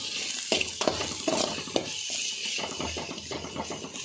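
Garlic and leafy greens fry in a pan for a traditional Tulu Nadu dish, a close, continuous sizzle punctuated by sharp spoon scrapes and clinks against the pan in the first half, with no voices.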